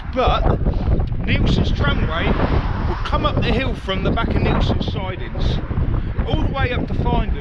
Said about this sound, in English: sorry for the wind, sorry for the noise